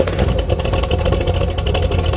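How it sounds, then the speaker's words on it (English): The V8 engine swapped into a carbureted Mazda Miata runs with a loud, rough, burbling idle close by, a steady deep rumble with a pulsing texture and no voices. "I want to start it up so you could hear what this thing sounds like"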